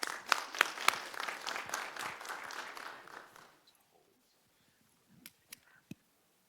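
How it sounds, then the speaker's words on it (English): Applause in a city commission meeting room, a moderate round of clapping that fades out after about three seconds, followed by quiet and a few isolated claps. "We applaud you and appreciate all your hard work."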